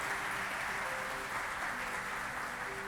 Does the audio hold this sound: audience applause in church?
yes